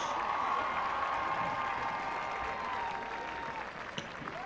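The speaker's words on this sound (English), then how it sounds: "Let's give a big round of applause for our class of 2024 Homecoming Court" A crowd at a high school football game applauds the homecoming court, steady clapping and cheering that fades slightly toward the end, heard at a distance in an open stadium, with whistle-like tones on top.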